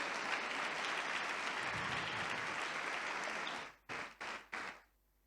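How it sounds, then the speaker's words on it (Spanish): A church congregation applauding during a Sunday sermon, sustained loud clapping for several seconds, then three short separate bursts of claps before falling quiet. "Por favor, si está entendiendo, aplauda a Dios"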